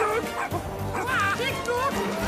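Small dog in a Compare the Meerkat advert yaps in quick bursts, mixed with lively character voices and music.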